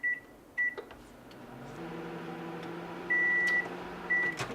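A microwave oven hums steadily while reheating stuffed baked potatoes, with its electronic beeps sounding at the start and near the end, close and clear.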